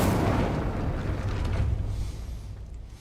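An Incendio fire spell cast in the Hogwarts Legacy video game, a loud whooshing burst of flame that roars at once and then slowly fades, with no talking over it.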